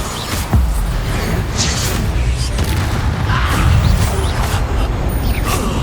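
In the PS5 game Hogwarts Legacy, a spell blast sets off a heavy boom with crashing debris, followed by sustained loud rumbling combat noise and scattered impacts.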